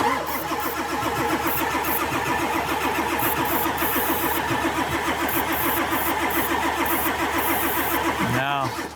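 A truck engine cranks on a small jump pack without firing, its starter churning in a fast, even rhythm for about eight and a half seconds before it stops abruptly.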